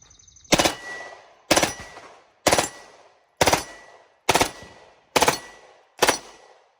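A Beretta M93R burst-fire machine pistol fires seven sharp, loud bursts at roughly even one-second intervals, each a tight cluster of rapid shots with a brief decaying echo, and no talking between them.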